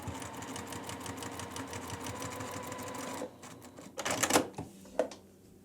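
A sewing machine stitches a diagonal seam across a quilt square, following a 1/4-inch diagonal seam tape guide. It runs at a steady, rapid stitching rhythm for about three seconds, then stops, followed by a few brief fabric-handling rustles.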